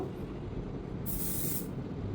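Hair spray hisses from a can onto hair during a hairstyling class, one steady spray burst of about three quarters of a second over a constant background rumble.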